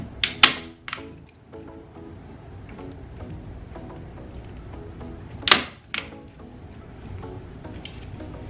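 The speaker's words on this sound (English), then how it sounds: "I'm going to staple it here." A staple gun fires into a dresser being repaired, with two sharp, loud snaps several seconds apart and faint handling clicks between them.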